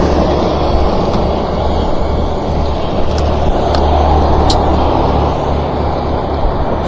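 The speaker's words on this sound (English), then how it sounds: "there's all kinds of traffic behind me and to the side of me and in front of me now" Road traffic rumbles and rushes past an electric bike riding along streets on the north end of San Bernardino, California, a continuous moderately loud roar of passing cars and trucks.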